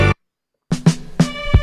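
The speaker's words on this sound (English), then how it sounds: "So listen to this original snare." A snare drum fill sampled from a song intro, played back on an MPC3000: a short tone, a brief gap, then four quick, loud, crisp drum hits in an uneven rhythm.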